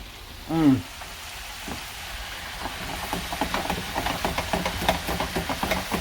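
Rabbit nuggets fry in a pan and are stirred, giving a bubbling sizzle broken by quick scraping strokes. A brief vocal sound is heard near the start.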